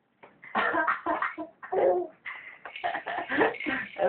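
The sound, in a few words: pretend cough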